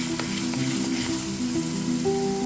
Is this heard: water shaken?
no